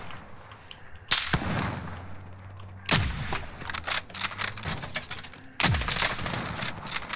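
Gunfire in a first-person shooter game, three sharp loud shot bursts spaced a couple of seconds apart with ringing echoes and scattered rattling between them, no talking.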